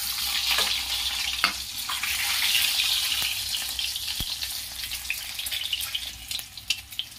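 Boiled eggs fry in hot oil in a kadhai for egg curry. A steady, close, hissing sizzle runs throughout, with scattered crackles and small spatter pops and no voices.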